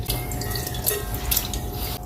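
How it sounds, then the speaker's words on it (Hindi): Leftover water poured into a pressure cooker with soaked mash lentils gives a close, continuous splashing trickle with a few drips, fading at the very end, no voices. "और ये जो पानी हमारा बचा है ये भी शामिल कर देंगे।"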